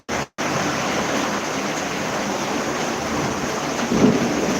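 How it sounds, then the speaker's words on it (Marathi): Heavy monsoon rain pours steadily in Titwala with thunder and lightning, a dense, loud and continuous roar of rainfall with a low rumble of thunder swelling near the end, and no talk. "पाऊस भरपूर लागतोय"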